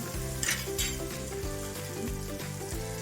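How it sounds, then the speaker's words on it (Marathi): Cauliflower gently frying over a low flame while a spoon stirs it, a faint, steady sizzle with a couple of brief louder scrapes near the start and soft music underneath. "आता आपल्याला फुलगोबी टाकून घ्यायची आहे चमच्याने एकसारखं हलवत राहायचं आहे"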